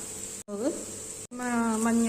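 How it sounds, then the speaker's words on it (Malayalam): Onion and crushed garlic sizzle steadily in a pan while being sautéed for pasta, a constant frying hiss broken by two brief cuts, with a voice-like tone rising over it. "ബ്രൗൺ നിറമാവുന്നത് വരെ നമുക്കൊന്ന് സവാള വഴറ്റാം"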